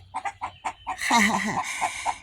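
A hen clucks in a rapid series of short calls after laying an egg, then breaks into a louder drawn-out squawking cackle, close by.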